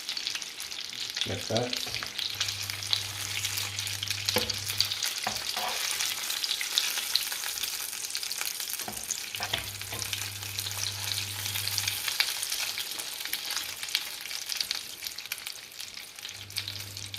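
Breadcrumb-coated meatballs fry in a pan with a steady, dense sizzle throughout, broken now and then by soft scraping and knocks as they are turned over, while a voice speaks briefly near the end.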